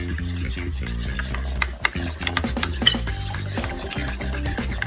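Mayonnaise and lime juice are stirred in a medium bowl with a utensil, giving steady, close scraping and clinking against the bowl over a constant low hum.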